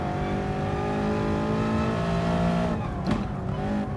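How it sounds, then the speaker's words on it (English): A race car laps the Nürburgring on race medium tyres in Gran Turismo, its engine note droning loudly and steadily with shifting pitch, then dipping and rising through a chicane with a brief tyre scrub. "Here we are going to do a lap on the Nurbergering"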